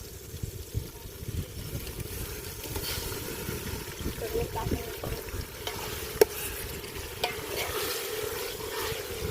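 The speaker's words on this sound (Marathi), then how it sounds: "आधी वाटण शिजवून घेणार आहे हा त्याच्यानंतर मग मसाले टाकणार" Spice paste for a goat mutton curry sizzling and being stirred in a pan outdoors by a river, a steady low frying hiss with occasional scraping clinks, while a person talks over it.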